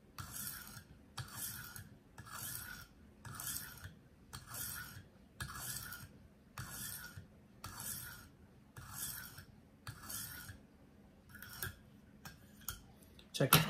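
A kitchen knife drawn across a stone on a KME sharpener gives steady, evenly spaced rasping strokes, about a dozen light scrapes in a regular rhythm, quiet and close, with a faint clink at the end.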